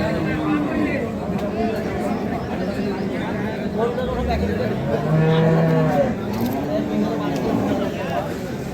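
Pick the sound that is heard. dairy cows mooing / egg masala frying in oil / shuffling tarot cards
dairy cows mooing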